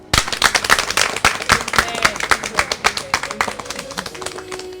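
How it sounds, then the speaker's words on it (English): A small audience claps at a street aerobics event in Ghana, sharp, uneven hand claps close by that thin out toward the end, with some voices in the background. "That deserves a clap."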